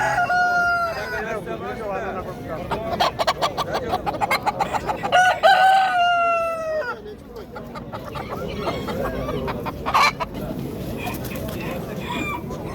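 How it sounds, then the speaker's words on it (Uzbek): A rooster at a bazaar in Namangan, Uzbekistan, crows loudly and nearby, followed by repeated clucking and another crow, with people talking in the background. "Emas, xo'roz ekan bunday."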